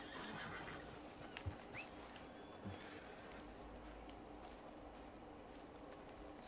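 A horse whinnies inside a video game amid a steady, noisy backdrop of game ambience, with a couple of brief hoof-like knocks; the neigh is fairly faint and does not stand out strongly.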